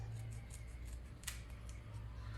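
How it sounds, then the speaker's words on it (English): Scissors snip material being trimmed for a 2022 Dodge Charger GT Hellcat air box conversion, a few quiet crisp cuts close up over a low background hum, with one sharper snip in the middle. "Let me snip this off a little bit."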